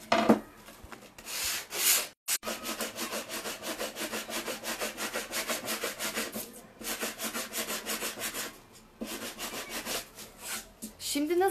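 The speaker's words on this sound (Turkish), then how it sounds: "Ben zımpara yapıyorum." A wooden picture frame is sanded by hand with sandpaper, rapid rhythmic scraping strokes repeated close up, with brief pauses between runs.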